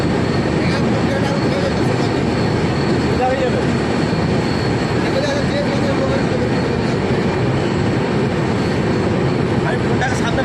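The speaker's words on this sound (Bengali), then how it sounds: "পাহাড়ের মাঝখানে যাচ্ছে ট্রেনটা" An express train runs through a dark mountain tunnel, producing a loud, constant enclosed roar and rumble of wheels and motion, with voices faintly audible over it.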